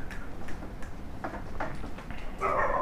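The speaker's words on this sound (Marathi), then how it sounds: "हे कुत्रे भोगत आहेत शेरूला बघून" Dogs bark and yip in short, scattered bursts outdoors, moderately close, with a louder yelp at the end over background street noise.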